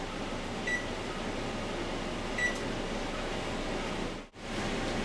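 Kitchen timer beeping in a cooking setting, two short faint electronic beeps a couple of seconds apart over a steady hum of background noise, with no talk.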